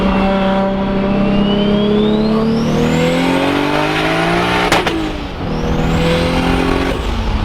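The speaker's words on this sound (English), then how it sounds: "I love that backfire" A Toyota Supra with traction control off accelerates hard, its engine note climbing through the gears with a sharp backfire crack at a shift, loud and close throughout.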